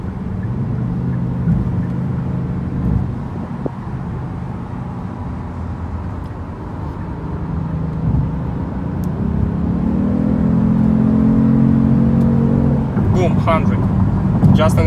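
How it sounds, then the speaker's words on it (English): A 2018 Kia Stinger GT2 RWD with double exhaust hums and rises in pitch as it accelerates, a steady low drone with a brief rev toward the end, heard from inside the car. "The sound of engine is so good."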